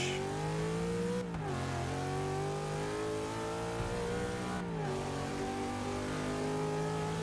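Car with a centrifugal supercharger launching in Forza 6, engine revving hard and climbing steadily through the gears, with two brief shift dips breaking the rising whine; loud, close and alone.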